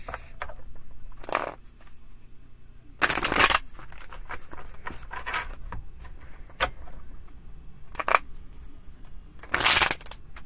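Tarot cards shuffled by hand during a deck reading, giving several short, crisp riffling bursts spaced across the stretch, with faint handling rustle between them.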